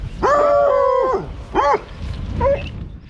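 A dog, likely a hunting hound in the French countryside, lets out a long loud howl, then two shorter yelping howls, close by with no talk over them.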